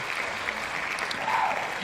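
Applause from a small studio audience, a brief steady patter of clapping heard close with faint voices underneath.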